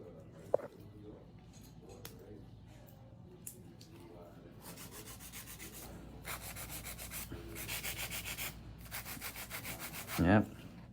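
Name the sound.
nail file filing gel nails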